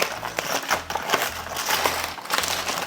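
Hot wrapped baked potatoes are unwrapped by hand, with close, repeated crinkling and crushing of the wrapping in quick bursts.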